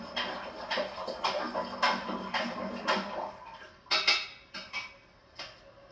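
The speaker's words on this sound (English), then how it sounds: "I'll just give this a bit of a stir." Homebrew Pilsner is stirred in a brewing pot with a series of irregular clunks and scrapes, a few sharper knocks standing out against quiet background.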